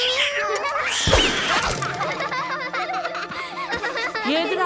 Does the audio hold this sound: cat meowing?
yes